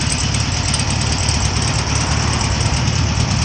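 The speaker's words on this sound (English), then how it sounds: "I love the way these old cars sound." A 1972 Volkswagen Beetle's air-cooled flat-four engine idles close by with a steady, even chug and a slightly knocking rumble, constant in loudness throughout with no voices.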